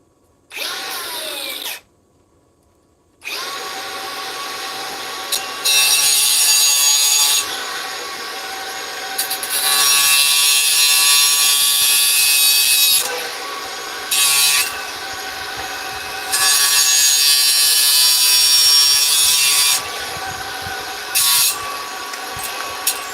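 A battery grinder whines loudly in several bursts of cutting, spinning up and down between cuts, close and without talk.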